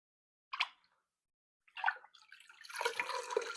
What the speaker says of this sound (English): Drain all that water, all that stock out of there.